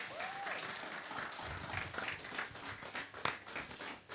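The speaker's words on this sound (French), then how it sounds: "des grands applaudissements pour ces deux teams s'il vous plaît" Applause at a youth press conference, a sustained crowd clapping for two teams that rolls on for several seconds with one sharp louder clap near the end.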